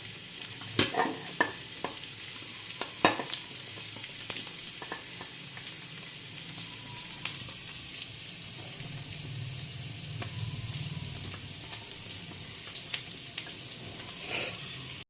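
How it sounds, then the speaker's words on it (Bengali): Onion and garlic frying in a pan, a continuous close sizzle with occasional stirring clinks and scrapes, no speech. "পেঁয়াজ রসুনটা আমার ভালোভাবে ভাজা হয়ে গেলে তারপরে আমি মাছের মাথাটা ওর মধ্যে দেবো।"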